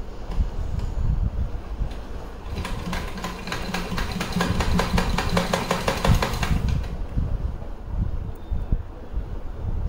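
A sewing machine runs a rapid, even stitching chatter while sewing a double seam on a choli, loud and close over a steady rumbling background, with the fast stitch rhythm most distinct in the middle stretch.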